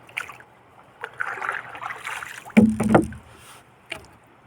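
Small wooden fishing boat (bangka) moving on the water during squid fishing, with quiet lapping and knocking of water against the hull, a louder splash and clunk midway, and a few scattered bumps.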